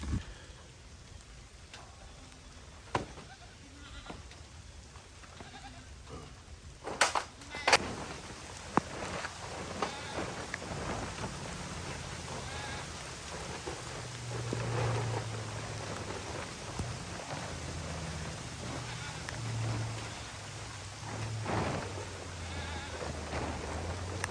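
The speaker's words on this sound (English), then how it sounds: "looks like I'm already going to get rained out" Rain falls steadily outdoors, a continuous close patter with scattered sharper knocks and thumps and a low rumble underneath, and no one speaks.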